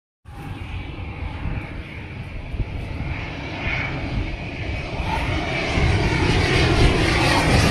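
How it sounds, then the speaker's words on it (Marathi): An airplane engine roars overhead, a loud, steady drone that rises gradually and keeps building to the end. "आता आणखीन एक विमान आलं पहा तुम्ही पण."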